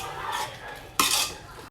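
Tomato being stirred into spice paste in a pan for paya curry, with a spoon scraping and clinking against the metal in two short bursts, the second louder, close by and without talk.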